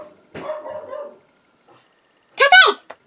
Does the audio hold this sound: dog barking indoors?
yes